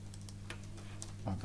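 A few sharp, light computer mouse clicks on a desk, spaced out over a steady low hum while someone browses Italian genealogy and church diocese websites.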